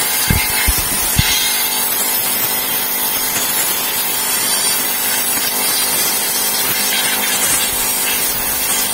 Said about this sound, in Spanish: Yo tengo aquí un compresor especial con la cual sopleteamos la unidad.